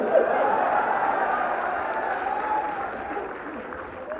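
An audience claps at a humorous Hindi poetry recital in Saifai, a steady, moderately loud wash of applause with faint crowd murmur and a hint of laughter underneath, lasting about four seconds.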